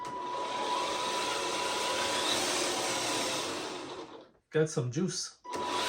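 Electric motor of a Double E D110 Land Rover Defender scale RC crawler whirring steadily and fairly loud for about four seconds, then cutting out as a voice speaks briefly before the motor hum resumes.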